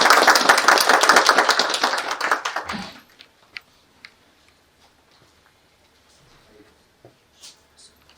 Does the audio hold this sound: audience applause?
yes